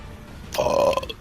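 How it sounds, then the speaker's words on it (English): A single loud, gurgling burp comes through an online voice chat, close and short, rising out of quiet background hiss. "So you really pushed to talk and burped."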